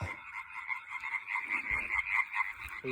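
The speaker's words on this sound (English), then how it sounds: "Got a water frog right here." A water frog in France croaks steadily in repeated raspy pulses, close and fairly loud, with a few low thumps underneath.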